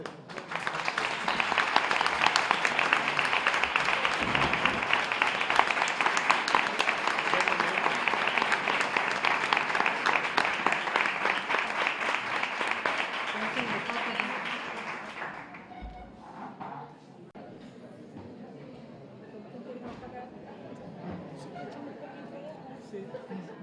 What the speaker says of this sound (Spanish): Un aplauso, ¿eh?